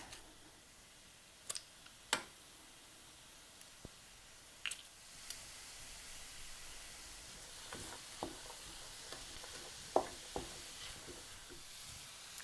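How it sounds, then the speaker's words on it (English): Chopped onion and pepper cooking in a pan with ground beef for empanadas: a soft, steady sizzle with scattered sharp clicks and taps of a utensil, faint and close, without speech. "going to go ahead and add my chopped onion, my chopped pepper"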